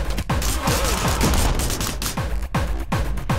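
Rapid Uzi machine gun fire in the video game Anger Foot, loud bursts of shots close up with dense booming impacts throughout.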